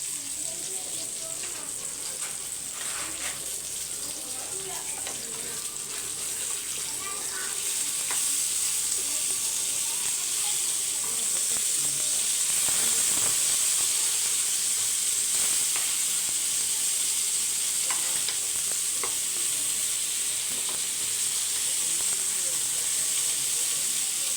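Fish frying in a pan for a Tamil home-style fish fry, a steady close sizzle and hiss that swells a little louder partway through, with occasional soft stirring scrapes and no talk.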